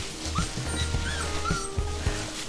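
Tiny 4.5-week-old Vizsla puppies whimper and squeal in a few short, thin cries over a low rumbling vehicle hum during a short ride.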